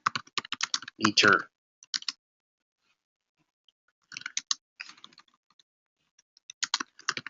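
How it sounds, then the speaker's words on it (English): Fingers type on a computer keyboard in quick, uneven bursts of close, crisp clicks, pausing and resuming while a person talks over them. "don't you like that I'm typing as I'm talking?"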